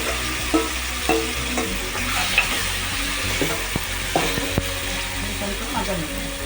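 Masala for chicken masala gravy sizzles steadily in a pan while a spoon scrapes and stirs it in short, repeated strokes, close and continuous with no talking.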